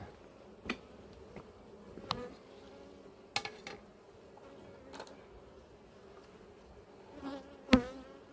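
Honeybees buzz in a steady, faint drone around an apiary hive while a drone-laying colony is shaken out, with occasional soft knocks and clicks of hive equipment and no talk.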